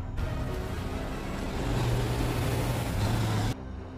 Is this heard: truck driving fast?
yes